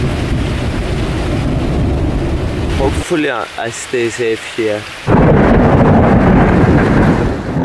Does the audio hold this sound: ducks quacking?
no